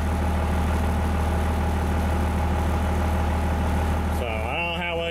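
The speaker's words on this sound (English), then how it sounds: "The truck's pretty loud." Loud idling truck engine with a faulty charging system and voltage regulator: a constant heavy rumble throughout, with a brief whine rising in pitch near the end.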